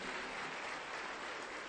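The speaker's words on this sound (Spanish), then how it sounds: "Fuerte las palmas para el Señor Jesús." A church congregation clapping hands during an evangelical Spanish-language service, a dense continuous burst of many hands heard alone and fairly loud for its short length.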